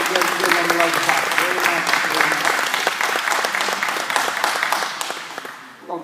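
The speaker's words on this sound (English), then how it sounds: "Let's give them a lovely applause." A church class audience applauds the White family, sustained loud clapping from many hands with scattered voices underneath, fading near the end.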